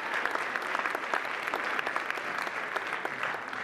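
A room full of people applauding, sharp overlapping claps at an even level, fairly close and continuous.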